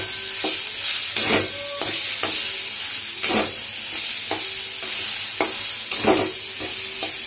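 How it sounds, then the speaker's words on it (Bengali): Spice paste with Kashmiri chili, coriander and cumin powder sizzles and fries steadily in a pan, with repeated scraping strokes of a spoon stirring it at a regular rhythm, close and fairly loud, no voices. "দিয়ে এটা ভালো করে কষিয়ে নেব।"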